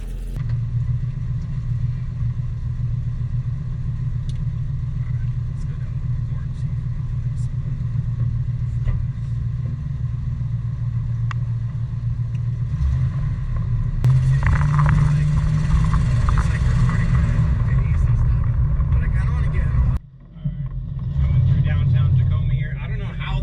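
A 1971 Chevy El Camino A-body streetcar with patina rumbles steadily through a test drive, its engine a continuous low drone that swells near the end, with people talking over it.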